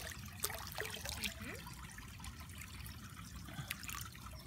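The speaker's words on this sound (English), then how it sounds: "Now I'll do a release into our water hammock in the backyard" Water trickling and splashing softly as tree frog tadpoles are released into a backyard pond, a steady low gurgle with occasional small splashes.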